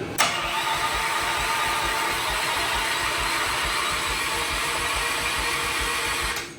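Small gas engine fitted to a modified Little Tikes Crazy Coupe toy car fires up and runs with a loud, rapid putter, a sustained close chugging roll that holds steady before cutting off.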